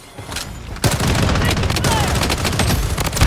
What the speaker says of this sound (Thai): M4 นัดเดียวน็อกนัดเดียว